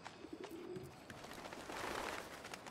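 Pigeons coo in Submerged: Hidden Depths, a few soft, distant calls over quiet ambient noise.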